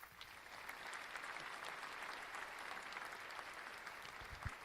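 A small group applauds, with quick, scattered claps at a modest level that carry on steadily for a few seconds.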